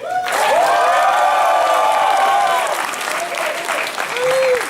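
A live convention audience at an anime debate show applauds and cheers loudly and steadily for Monkey D. Luffy, a dense crowd roar with whoops rising above the clapping throughout.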